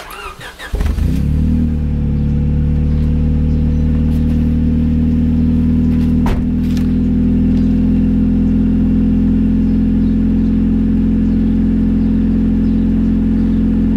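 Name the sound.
Honda Civic EK4 engine starting with stock intermediate exhaust pipe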